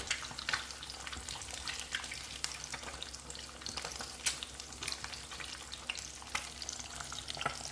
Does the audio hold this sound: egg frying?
yes